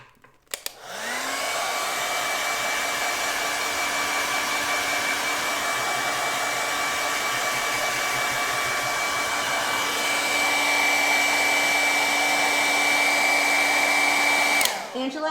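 A hair dryer blows steadily on wet paint on a painting being worked on, switching on near the start and running as a continuous loud whirring hum with a whine, slightly louder near the end, then cutting off.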